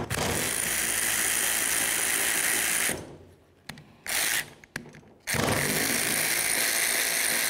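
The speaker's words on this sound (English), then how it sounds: "we're going to remove both of these slider bolts right here." Ratchet loosening the brake caliper slider bolts on a 1998-2011 Ford Ranger, a steady close clicking that runs for about three seconds, breaks off into short bursts, then resumes and continues to the end.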